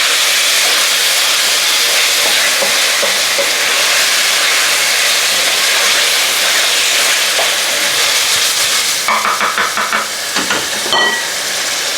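Lamb pieces for a curry render their fat in a hot pot, giving a loud, steady broadband sizzle and hiss that runs throughout, with a few sharper crackles and pops near the end.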